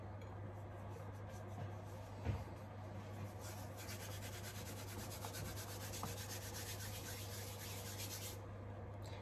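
Bread is crumbled by hand for a coca de mollitas, giving soft continuous rubbing and crumbling rustles with a few faint light taps, close and quiet, with no talk.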